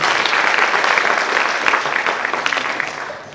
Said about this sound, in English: Can you clap for him once again?